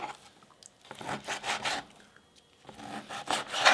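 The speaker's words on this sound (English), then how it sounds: "Sometimes fat and steak is kind of hard to cut through, especially if your knife isn't sharp enough." A knife slicing steak into roughly half-inch cubes on a board, giving soft, irregular scraping and crunching strokes in short bursts, close and fairly quiet, with brief pauses between cuts.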